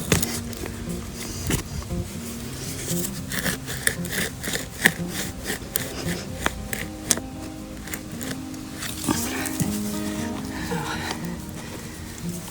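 A hole about 20 cm deep is dug in garden soil for a tomato plant, with repeated scraping and crunching strokes of a tool into earth at an uneven rhythm, close and moderately loud.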